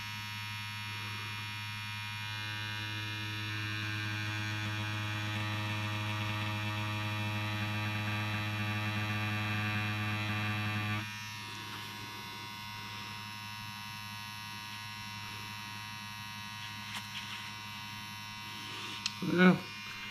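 Dragonhawk Mast Fold tattoo machine running a needle on practice skin, a steady close electric buzz with a strong hum that drops in tone partway through, while someone talks over it.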